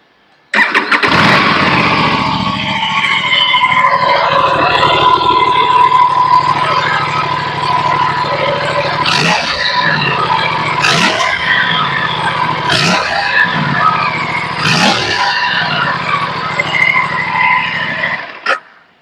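Aprilia 457 RS motorcycle engine cranks and fires up, then idles loudly close by, followed by four sharp throttle blips spaced a couple of seconds apart before it cuts off.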